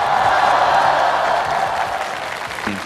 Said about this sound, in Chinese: 掌声送给格格。